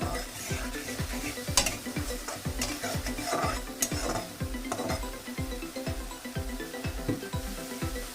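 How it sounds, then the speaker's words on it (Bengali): Potatoes and flat beans (sheem) with lentil dumplings sautéing in a pan with a little water, stirred briskly: rapid rhythmic scraping strokes over a soft sizzle, with occasional clinks of the utensil against the pan, close and without talk. "অল্প অল্প জল মিশিয়ে খুব সুন্দর করে কষিয়ে নিতে হবে।"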